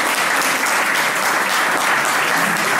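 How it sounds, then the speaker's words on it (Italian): Audience applause at a medieval-themed award ceremony in Italy, a thick, continuous burst of clapping from a sizeable crowd, even and loud throughout. "Un applauso."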